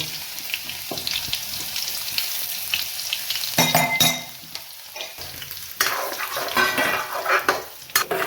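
Cumin and garlic fry in hot oil for a raw-tomato curry, a steady sizzle broken by clanking stirs and scrapes of a utensil against the pan, with louder bursts near the middle and toward the end.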